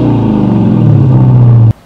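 A Dodge Challenger SRT Hellcat with a valved aftermarket exhaust gives a deep, loud, continuous rumble for under two seconds, holding steady with a slight rising drone before it cuts off abruptly.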